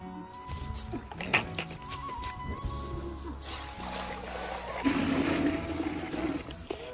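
Water pours and splashes at a mountain farm as cows are given drink, a steady running gush with trickling and sloshing, moderately near and with no talk.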